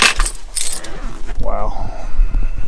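Keys jangle on a keychain near a truck, a loud bright metallic rattle in bursts over about two seconds, with a low engine-like rumble underneath.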